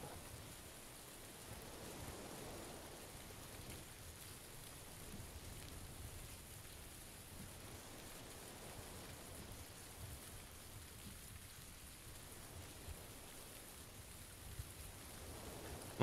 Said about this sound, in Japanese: もう雨の音で何も聞こえねえ。